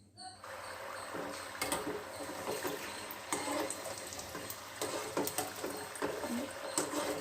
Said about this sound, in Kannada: ಇದಕ್ಕೆ ಒಂದೊಂದೇ ಕೋಡುಬಳೆ ಹಾಕ್ಬಿಟ್ಟು ಫ್ರೈ ಮಾಡ್ಕೊಳ್ಳೋಣ